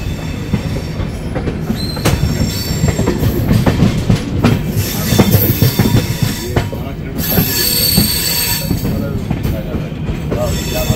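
The new LHB coaches of the 13174 Sabroom–Sealdah Kanchanjungha Express squeal loudly at Malda Town, platform 1, with sustained metallic wheel screeching over rolling rumble and clattering track joints, heard from close on board.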